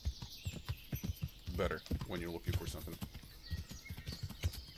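A horse's hooves clip-clop steadily along a road in the medieval game Kingdom Come: Deliverance, heard under someone talking, with a brief neigh-like sound in the middle.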